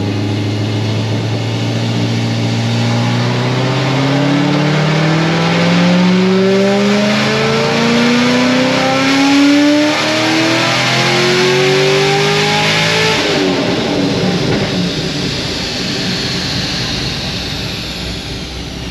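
A car engine revs hard at full throttle on a dyno. A loud, close roar climbs steadily in pitch for about thirteen seconds, then cuts off sharply, and the drone of the dyno rollers carries on after it.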